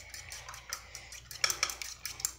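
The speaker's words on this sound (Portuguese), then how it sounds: "agora você vai pegar um garfo e mexer." A fork whisks eggs in a bowl for an omelette, giving quick, light metallic clinks and taps in an uneven rhythm, close and fairly quiet, with no talking.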